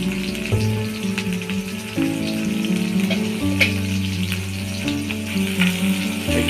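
Chopped onion, garlic and green chilli frying in hot oil, a continuous close hiss and crackle over a steady tonal background.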